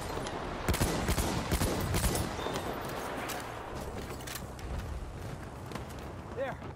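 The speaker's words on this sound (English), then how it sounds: "I'm just gonna fucking shoot through them." Video game gunfire crackles in rapid bursts during a shooter match, sustained and moderately loud, with some louder shots early and a busy background of battle noise.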